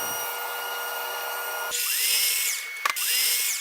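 A power saw whines steadily as it cuts bricks for a fireplace makeover, loud and close, then dips as the blade shifts and picks back up.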